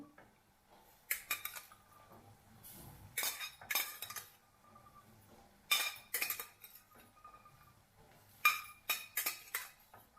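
Intermittent metallic scraping and clinking of a spoon stirring boiled chickpeas in a pan, in bursts with quiet gaps between strokes; fairly close, no speech.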